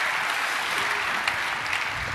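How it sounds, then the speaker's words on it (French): A crowd at a TechDays 2012 developer conference session claps continuously in a dense, even wash of applause, moderately loud and sustained without pause. "Oui, il faut les applaudir."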